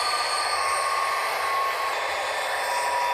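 Rail noise from the Trainz Driver train simulator as the train comes to a stop: a continuous loud rumble with a high metallic wheel squeal running throughout, even and unbroken, with no talking.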